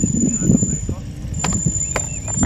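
Vehicle brakes squeal on a road ride along Route 111: a thin, steady high-pitched whine runs over low engine and road rumble, broken by a couple of short sharp clicks, with muffled voices underneath.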